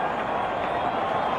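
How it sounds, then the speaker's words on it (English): A cricket crowd cheers after a wicket at the 1992 India vs Pakistan World Cup match, a broad steady roar of voices and clapping heard from a distance and holding even throughout. "Their supporters in the crowd are delighted."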